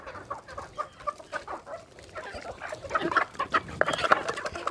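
Hens in a small backyard flock cluck steadily while pecking at homemade feed, with overlapping soft and sharper clucks from several birds nearby that build in intensity, and no talking.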